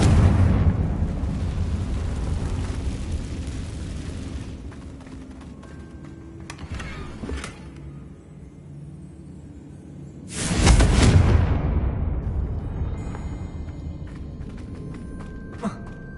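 A Confringo blasting spell goes off in a Hogwarts video game: a sudden loud burst hits midway and fades into a rumbling decay, with rough game ambience and clatter before it.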